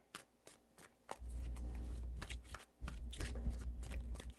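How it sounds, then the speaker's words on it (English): Tarot cards being shuffled by hand in a few quick riffling bursts, close and crisp, with brief pauses between shuffles and no talking. "3 shuffles."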